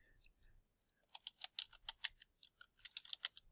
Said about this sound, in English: whenever you actually type your title here